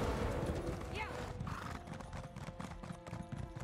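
Clip-clopping hooves of a cow unicorn mount in a video game, a steady quiet trot with a brief whinny-like call and soft game effects, a voice murmuring underneath.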